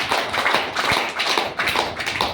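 Applause from an audience at a DXN product gathering, a short stretch of dense, steady clapping at moderate volume with no voices over it.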